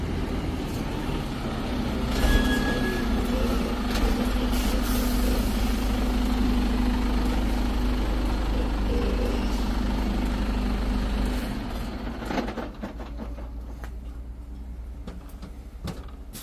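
A heavy loaded truck with a new trailer rumbles past with a deep, steady engine drone and road noise, fading and rattling as it moves away.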